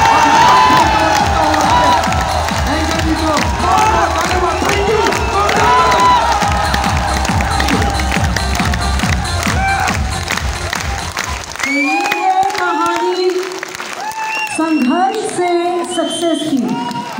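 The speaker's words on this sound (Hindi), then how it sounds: "जोरदार शानदार हल्ले गुल्ले के साथ और एक शानदार ताली के बजा के" A large crowd at a motivational event cheers, whoops and claps loudly, a dense roar that thins near the end into scattered shouts and voices.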